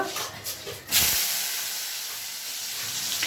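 Pieces of spiny gourd (kakrol) fry in hot oil, with a loud, steady sizzling hiss that surges up sharply after the first second and keeps crackling close by without any talk.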